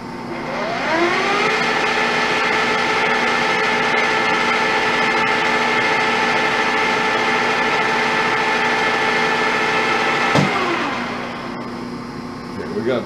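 A Pratt & Whitney Model B engine runs at about 800 RPM in a steady, loud mechanical drone with a stable whining tone for around ten seconds, then winds down, with a clank near the end.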